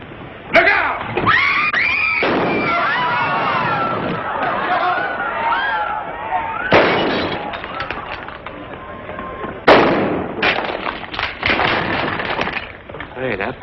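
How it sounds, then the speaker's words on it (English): Sharp gunshot cracks ring out in a 1940 western film, a few separate bangs mixed with shouting, screams and crowd commotion, loud and chaotic throughout. "Hey, that fella can shoot."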